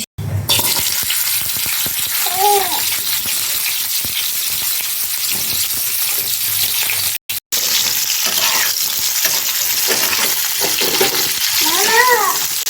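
Drumstick pieces and potato chunks fry in hot oil with a loud, steady sizzle and stirring scrapes, briefly interrupted midway. Short bursts of a voice rise above the frying now and then.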